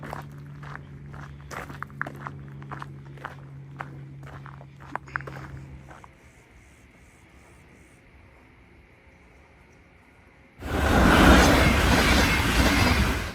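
A train in the Swiss Alps clatters along with rhythmic clicking from the wheels, then quiets to a low rumble before a loud burst of rushing noise near the end.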